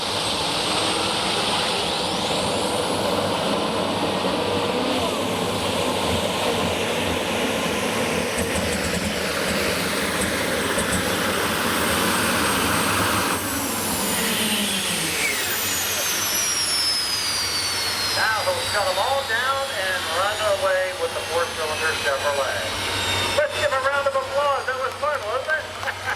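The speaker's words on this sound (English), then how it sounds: "That's now the center engine coming up to speed." Center engine of a pulling tractor winds up to speed with a loud, rising turbine-like whine and roar. Other engines drone underneath throughout, and a voice speaks near the end.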